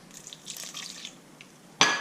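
A brief splash of water pours into sourdough dough near the end, short and fairly loud, after a few quiet, faint rustling sounds.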